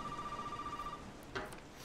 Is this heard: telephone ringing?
yes